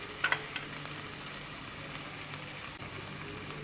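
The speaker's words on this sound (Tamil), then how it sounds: "பச்சை வாசனை போகிற வரைக்கும் நல்லா வதக்கிக்கோங்க." Spices and onion sauté in a hot pan for bottle gourd curry, giving a steady, close crackling sizzle with a couple of brief sharper pops near the start and no talking.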